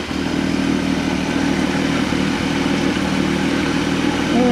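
A 1970 Ford Falcon's freshly installed 250 cid six-cylinder engine idling at about 780 RPM, with a steady, even rumble and light mechanical clatter, close and constant throughout with no talking.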